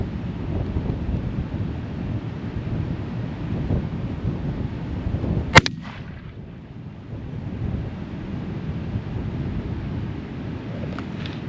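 A single sharp shotgun blast from a Beretta 1301 Tactical with a red dot sight, fired outdoors on a Colorado cattle ranch, a brief crack over steady wind noise on the microphone.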